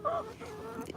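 Backyard hens being fed watermelon give a short, close cluck, a brief throaty burst of nasal clucking with no talk over it.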